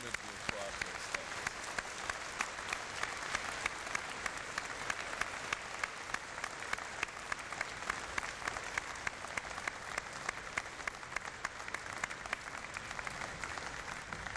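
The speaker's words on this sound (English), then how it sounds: "would you please join me in applauding these people who have supported you throughout your studies?" A large audience at a University of Waterloo convocation ceremony applauds steadily and continuously, a dense wash of clapping that holds at an even level throughout.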